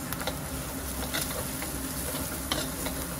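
Spices and red chili powder sizzle steadily in hot oil in a pan for Nagpuri toor dal aamti, a constant close crackling hiss with faint stirring scrapes.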